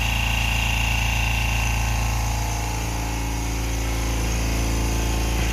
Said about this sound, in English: We'll see how much louder it gets when it starts having to really crank out the PSI.